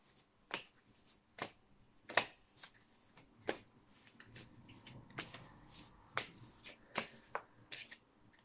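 Oracle cards, animal totem medicine cards, shuffled by hand in a quiet room, giving a string of crisp, irregular snaps and riffling taps up close with soft rustling between them; no one speaks.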